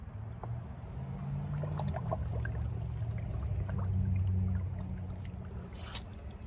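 Water pours steadily into a pot holding a root-bound water lotus being divided, a continuous splashing flow lasting several seconds at close range, with no one talking.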